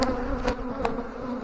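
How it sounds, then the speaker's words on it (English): Honey bees buzz steadily on a hive frame during a colony inspection, a close, continuous drone with a couple of brief brushing knocks. "She's been covered by bees."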